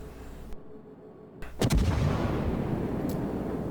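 A World of Warships warship's naval guns fire a heavy salvo of shells in one loud booming blast after a short lull, followed by a long rumbling decay.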